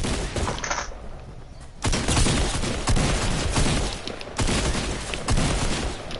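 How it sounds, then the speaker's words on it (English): AK rifle fire in a shooter video game, loud dense bursts of automatic gunfire that keep going almost without pause, close and heavy, with explosive rumbling underneath. "Quit shooting my AK"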